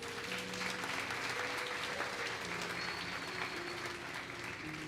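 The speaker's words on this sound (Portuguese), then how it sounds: "Então aplauda ao Senhor por isso." A church congregation applauds during a sermon, a continuous even patter of many hands, fairly distant and soft, with no one speaking over it.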